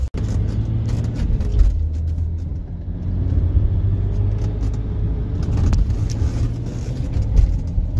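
A diesel Audi A6 Allroad 2.5 TDI (180 hp) idles with a deep, close rumble after starting, then swells louder as it is revved in first gear before settling back.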